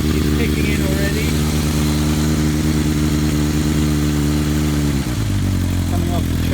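A Kawasaki ZR1100 Zephyr motorcycle fitted with a Kerker 4-into-1 exhaust idles loud and close while warming up, a steady deep burbling throb that shifts pitch near the end as the revs settle.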